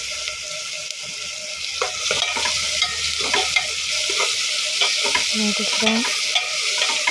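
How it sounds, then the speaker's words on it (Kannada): Oil sizzles steadily in a pan while a spatula stirs and scrapes in repeated strokes, cooking the base for a potato sagu served with poori. A voice speaks briefly. "ಚೆನ್ನಾಗಿ ಫ್ರೈ ಮಾಡ್ತಾಯಿದ್ದೀನಿ"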